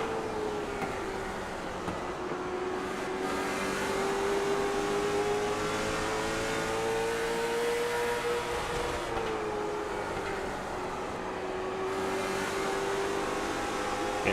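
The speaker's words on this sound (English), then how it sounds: "You can hear the car on the rev limiter there, just on the end of the straightaway" Late model race car on the rev limiter at the end of the straightaway, a steady high engine whine bouncing against the limit, heard from a distance with faint crowd and track ambience beneath.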